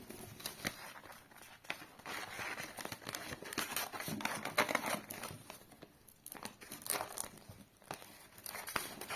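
Scissors snip and crinkle through paper nearby, with irregular cuts and rustling handling noise, no one talking.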